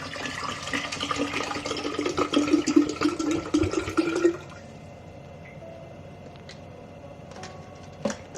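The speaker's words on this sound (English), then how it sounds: "so I'm gonna put the water in. I'm gonna fill it to here where it says 4 cups" Bottled water pours into a coffee maker's reservoir, a steady splashing trickle for about four seconds that then stops, leaving quiet room tone with a few faint clicks.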